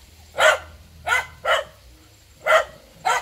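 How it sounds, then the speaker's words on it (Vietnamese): A dog barks five times with uneven gaps between barks at a rural Vietnamese home garden. Each bark is loud, close and sharp, with quiet in between. "con chó này ồn quá"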